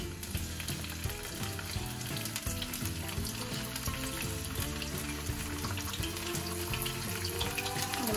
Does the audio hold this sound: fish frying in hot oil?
yes